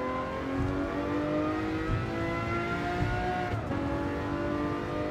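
A Lamborghini Murcielago LP640 in the Gran Turismo 7 racing game, its engine holding a loud, steady high-revving drone that briefly dips with a quick short-shift near the end, no voices.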